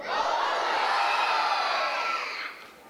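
A large crowd at a belly dance show shouts together in a loud, brief burst that fades out after a couple of seconds.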